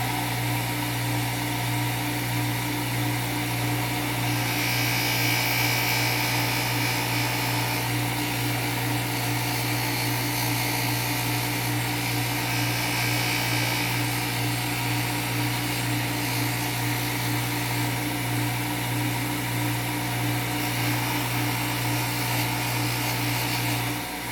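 An unguarded bench grinder fitted with a non-woven abrasive wheel runs as an open buffer, producing a steady, close motor hum and whir throughout, with faint rises as the work presses against the wheel.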